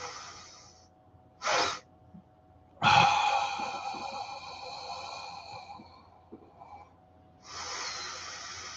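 A heavy breathing exercise: forceful, hissing exhalations and sharp intakes come in separate bursts with quiet pauses between, close to the microphone and with no talking over them.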